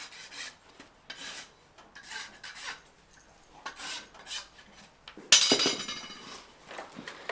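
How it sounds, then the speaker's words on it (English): Farrier's rasp filing the sharp edges of a toe-clipped horseshoe on an eventing horse: a run of rhythmic rasping strokes, close and moderately loud, ending in a sudden brighter, harsher scrape. "Rasp off our sharp edges here."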